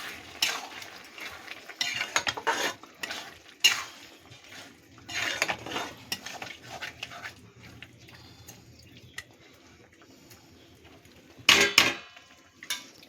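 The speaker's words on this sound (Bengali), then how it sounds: "চিনিটাও ভালো করে মিশিয়ে দিচ্ছি।" A spoon stirs sugar into tomato chutney with dates and mango leather in a pot, with bursts of scraping and clinking against the pan, quieter swishing between, and a loud clatter near the end.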